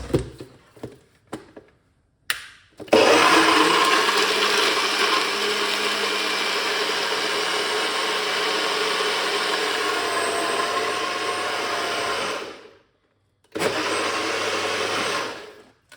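A few clattering knocks, then a blender whirs loudly and continuously for about ten seconds, stops briefly, and runs again in a short final burst.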